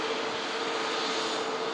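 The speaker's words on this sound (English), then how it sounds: "Just catch this stunning A350 taxi past us here at the runway visitor park" An Airbus A350 airliner taxiing past a runway visitor park, a steady broadband jet engine roar with a faint whine, continuous and fairly distant, with no talk over it.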